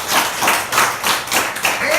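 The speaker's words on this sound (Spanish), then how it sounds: "Un aplauso para ti." A church congregation claps during a sermon, a loud, close burst of rhythmic applause with regular hand strikes over about two seconds, with voices mixed in.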